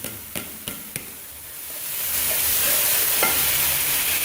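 Chillies dropped into a hot pan of mixed vegetables for sabzi, a few sharp knocks of a spoon on the pan followed by a loud, swelling sizzle that keeps going.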